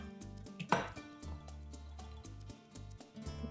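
Knife chopping red bell pepper on a board, a few soft irregular thuds with one sharper cut over quiet background music.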